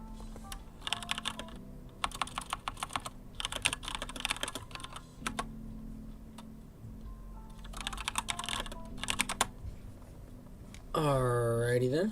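Keyboard typing comes in several bursts of rapid clicking at close range, with pauses in between, posted as messages in a GME stock trading chat. Near the end a short, different tonal sound is heard. No one speaks.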